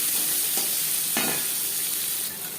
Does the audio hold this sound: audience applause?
no